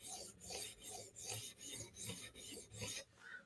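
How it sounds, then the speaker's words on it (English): A Spyderco knife is drawn over a 400 grit Hapstone RS CBN sharpening stone in steady, evenly spaced rasping strokes, about two per second, close and clear with no talking. "at 400 grit, these Hapstone CBNs leave a really nice satin edge that's really attractive and extremely sharp"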